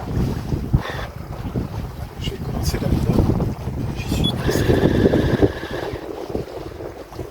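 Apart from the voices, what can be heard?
sailboat sailing in the wind, turning downwind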